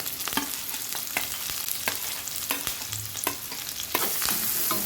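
Onion, green chillies and curry leaves frying in oil in a pan, a continuous sizzle broken by sharp scraping stirs at irregular intervals, close and fairly loud.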